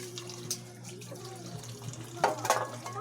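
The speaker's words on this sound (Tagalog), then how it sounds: "Ito ng aking gripo." Water runs from an outdoor faucet at a fairly low level, a soft continuous splash with a couple of brighter bursts near the end, alongside a faint hum and some quiet background voices.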